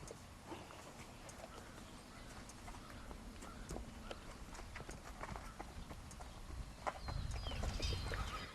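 Fox Trotter horses on a breeding farm clip-clopping steadily as they are led out, a close and continuous run of hoofbeats over faint outdoor background.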